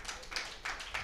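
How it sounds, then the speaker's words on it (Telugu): A small group clapping at a Bible quiz, a few quick, light bursts of hand claps at moderate distance over about a second. "క్లాప్స్ కొడదాం."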